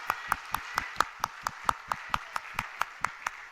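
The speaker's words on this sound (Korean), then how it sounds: "성경 66권 우리에게 주신 하나님께 감사의 박수 드립시다" A congregation claps in rhythm during a Wednesday worship service at a church, about fifteen sharp, evenly spaced claps in unison that are close and clear, with no talk.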